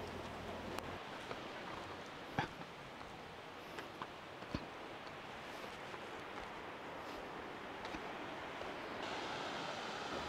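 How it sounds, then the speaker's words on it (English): Water from the upper fall of Edith Falls in Australia pours over rocks into a natural swimming pool, heard as a steady, faint rushing wash throughout, with no voices. "It is flowing very beautifully, and all the water flowing from this waterfall is just going to the bottom in that direction."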